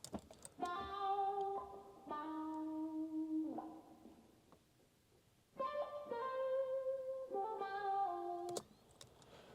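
Bright, thin second guitar part heard dry before any processing, picking sustained high chord voicings in two phrases separated by a quieter gap, sparkly and upfront without voices.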